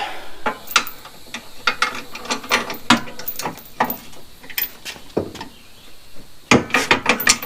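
A metal bar used as a pry on a stuck part at a hog trap gives off irregular, close clicks, creaks and ratcheting snaps, with a burst of rapid clatter near the end.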